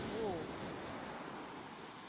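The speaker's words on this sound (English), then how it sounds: "The waves are just amazing." Faint, continuous wash of ocean surf at Baler, a surfing beach in Luzon, heard from a distance with a hint of wind; a brief voice-like tone shows near the start, then only the steady rumble of waves.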